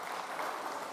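Brief, fairly faint applause from a gathering at an early childhood education event as young children leave, an even wash of clapping lasting about a second.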